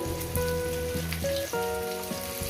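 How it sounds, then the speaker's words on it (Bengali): Potatoes and cauliflower fry in a pan with a continuous, crackling sizzle, heard under steady background music. "আলুগুলো আমি আগে দু মিনিট ভেজে নেব আর ফুলকপিটা একসঙ্গে দিয়ে দিলে ভালো হয়"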